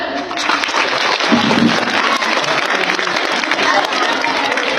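Applause from a school audience at a Turkish middle school's November 10 Atatürk commemoration, a steady dense patter of many hands clapping at close range and sustained without a break.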